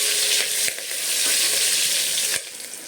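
Sliced onions and green chillies sizzle in hot oil in a pan, a steady bright crackling hiss broken by a few soft clicks of stirring.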